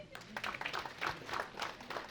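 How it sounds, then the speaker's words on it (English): A group claps together in a steady burst of applause, fairly close. "let's clap in for ourselves"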